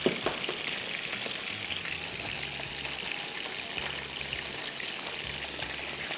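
Eggs fry one at a time in a hot pan of oil, a steady soft sizzle and crackle that carries on evenly throughout with no talk over it.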